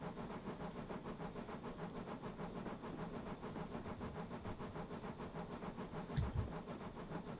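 A steam locomotive engine chuffs steadily at moderate distance, a fast even pulse of exhaust beats with a low rumble underneath and a brief clank near the end.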